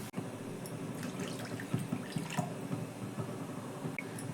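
Water poured from a bowl into fried semolina in a pan, two bowlfuls, for a Bengali milk puli pitha dessert; a steady close, wet splashing and hiss runs the whole time with small bubbling pops and no voice.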